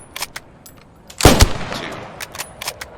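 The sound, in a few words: rifle shots fired from kneeling position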